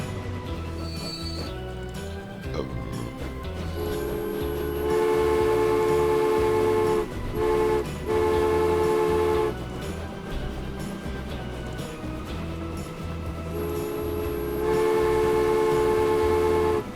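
A train runs in the simulation game Transport Fever, a steady mechanical rumble with rhythmic clatter, broken by several long horn blasts and brief dropouts, as someone talks over it.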